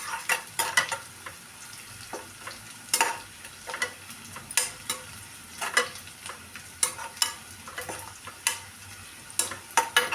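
Onions sauté in a pan for sambar, with a soft continuous sizzle under repeated sharp clicks and scrapes of a spoon stirring against the metal, close and irregular, no talking.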